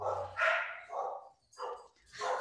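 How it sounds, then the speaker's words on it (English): Several dogs bark outdoors in short, loud bursts with yips between, at moderate distance, as a truck approaches up a driveway; no one speaks over them. "Sorry for the dogs."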